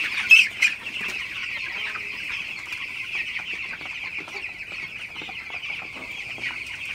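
A dense chorus of fifteen-day-old broiler chickens in a poultry shed at night, continuous high chirping and clucking with a couple of louder calls near the start and no talking.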